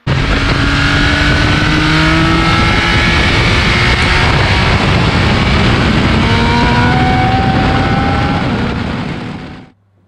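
A 2021 Triumph Speed Triple RS motorcycle on the road, its engine roaring loud and close throughout with rising pitch through the gears, then cutting away abruptly near the end.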